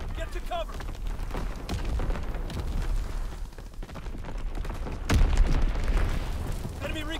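Call of Duty WWII artillery bomb blast: a heavy boom erupts near the five-second mark amid ongoing battle noise and gunfire, with game voice callouts heard around it.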